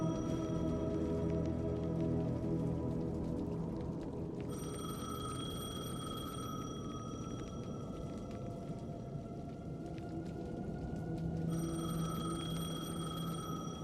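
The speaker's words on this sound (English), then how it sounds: "The payphone was ringing." A payphone rings in Alan Wake 2 in two separate bursts of trilling electronic rings over a low, steady ambient hum.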